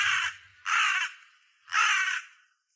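A crow in a park gives three loud, harsh caws close by, each drawn out and spaced by brief silences.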